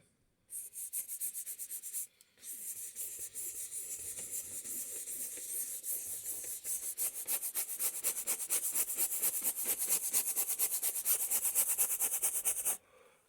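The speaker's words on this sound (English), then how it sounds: "So I'm just starting to rub some paint in." Paint being rubbed onto a canvas: a steady, close scratchy rubbing that runs almost continuously with one brief pause near the start, no voices.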